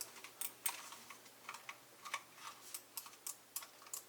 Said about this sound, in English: the only thing you could hear is the buttons clicking.